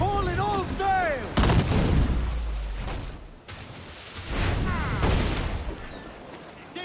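Ship cannons firing in the Assassin's Creed 4 Black Flag pirate video game, two heavy booming volleys with long rumbling decays, preceded by shouted commands and musical tones.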